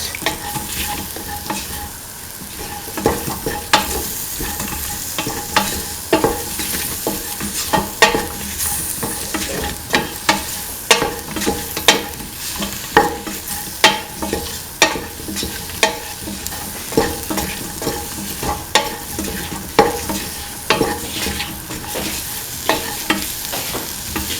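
Spice mixture stirred into okra in a pan: a continuous sizzle broken by regular, fairly loud scrapes and knocks from the spoon, repeating at a steady rhythm for the whole stretch.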